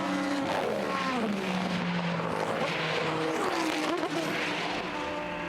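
An LMP1 Lola Mazda and an LMP2 race car battle for the lead, with engines roaring and pitches sweeping up and down through gear changes, loud and continuous from start to finish.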